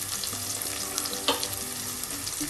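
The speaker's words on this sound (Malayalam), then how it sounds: "കറിവേപ്പിലയും ചേർത്ത് എല്ലാം ഒന്ന് വഴറ്റുക." Brinjal stir fry sizzles steadily in a pan with curry leaves while being sautéed, a close, continuous frying hiss with occasional stirring clicks.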